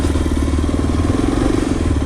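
A Yezdi Adventure motorcycle engine runs steadily and loudly up close, a continuous low throbbing rumble with no speech over it.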